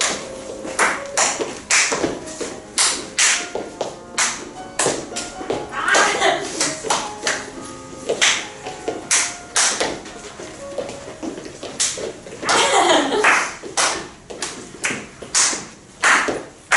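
Students in a classroom pass a clap from one to the next, giving a series of sharp individual hand claps at an uneven pace, close and loud, with voices talking between and over them.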